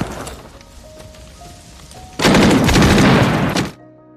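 A war movie battle scene erupts into a loud, dense burst of rapid machine-gun fire lasting over a second, after quieter scattered background action, then cuts off abruptly.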